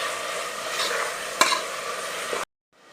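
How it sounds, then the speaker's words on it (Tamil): Chopped big onions sizzle and fry in a pan while being stirred, a steady close hiss broken by a brief scrape before it cuts off. "இப்போ நம்ம ஆட் பண்ண பெரிய வெங்காயத்தை நல்லா கண்ணாடி பதம் வர அளவு நல்லா வதக்கிக்கலாம்"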